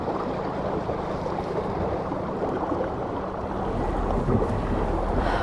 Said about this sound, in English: The only noise I hear is the wake.